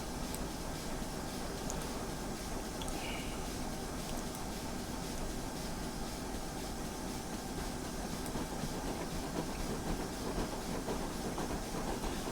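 Two locomotives run in tandem on the Abermule route in Train Simulator 2019, giving a steady, continuous rail rumble with a faint hiss that holds evenly throughout, with no voices.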